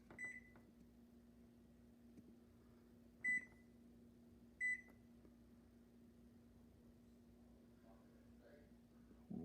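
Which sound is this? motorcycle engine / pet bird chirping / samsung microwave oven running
samsung microwave oven running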